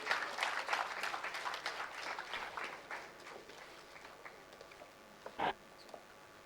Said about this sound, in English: Can we have a huge round of applause for all the students who have graduated this year?